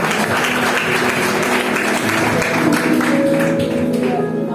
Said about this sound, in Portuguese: Quem pode aplaude a Jesus pela vida da missionária.